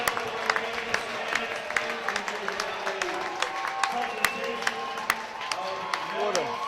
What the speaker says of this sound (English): Here's the standing ovation from your Elgin Community College crowd.